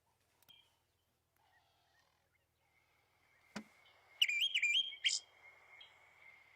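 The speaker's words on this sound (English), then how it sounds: "Olive thrush. Here he goes." An olive thrush sings a short burst of clear, whistled phrases after a quiet stretch at sunrise in Kruger National Park, South Africa, with a sharp tap just before and faint background hiss.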